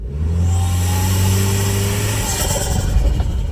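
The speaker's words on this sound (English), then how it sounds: "you get all the lovely sounds of a turbocharged engine." A Toyota 4Runner Trailhunter's turbocharged engine revs with a rising, strained drone, loud and close, then shifts into a rougher throaty rumble with turbo whoosh.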